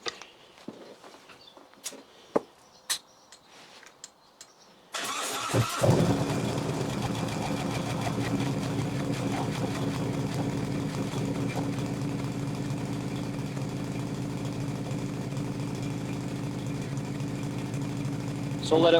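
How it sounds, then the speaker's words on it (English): A motorcycle fitted with a Bassani exhaust pipe cold-starts after a few quiet clicks and footsteps, then settles into a loud, steady idle with a deep rumble. "So basically, this is a cold start. This bike hasn't been started all day yet."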